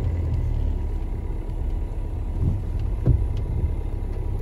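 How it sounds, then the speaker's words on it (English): A Ford Aspire's engine rumbles low and steady as the car pulls away uphill on a rough hill road, with faint bumps and knocks over the drone, no voices. "releasing the clutch completely, and the car moves in"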